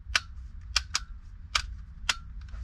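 A car headlight switch clicks crisply into place five times, sharp close snaps spaced irregularly over a quiet low hum, with no talking.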